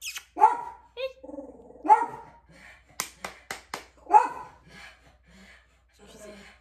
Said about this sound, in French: J'ai beau crier après maintenant pour lui dire d'arrêter de japper, elle est sourde.